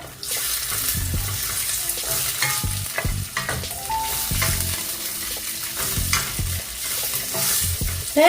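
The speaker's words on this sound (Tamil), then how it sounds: "இப்போ எடுத்து வச்சிருக்கிற இந்த கஜுவை இதில் நான் போடுறேன். கஜு கொஞ்சம் பொன்னிறமாகட்டும்." Cashews fry in melted ghee in a pan, a steady close sizzle broken by frequent stirring scrapes and clinks of a spoon against the pan, with no one talking.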